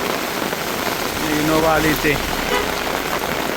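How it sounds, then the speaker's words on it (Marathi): Heavy rain pours outdoors in rural Konkan, a loud, dense, continuous hiss of falling water with a voice speaking briefly over it. "पाऊस आता जोरातच आला एकदम. जबरदस्त स्पीडने आला पाऊस."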